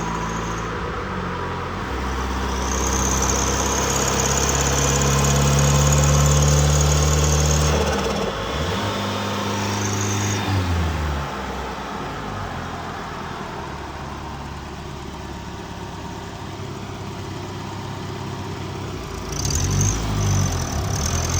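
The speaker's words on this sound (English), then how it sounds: "That exhaust leak is bugging me." A 1980s turbo Toyota truck engine idles steadily with a low rumble and a ticking, puffing exhaust leak from the head, shifting pitch briefly midway, close and continuous.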